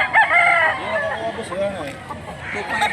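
A gamefowl rooster crows nearby in Mantalungon, Cebu, a strong rising-and-falling call followed by softer clucks, with voices and ambient noise underneath.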